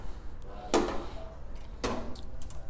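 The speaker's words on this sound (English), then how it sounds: "Open your service door panel." The service door panel on a Huebsch commercial washer is opened with two short metallic clunks about a second apart, close and moderately loud over a low background hum.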